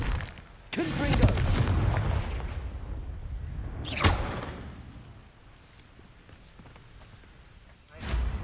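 Confringo blasting spell going off in the Hogwarts Legacy video game, a few loud booming explosions with rumbling tails, spaced apart amid quieter game ambience, no talk.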